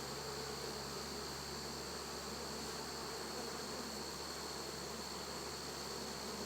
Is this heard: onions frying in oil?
no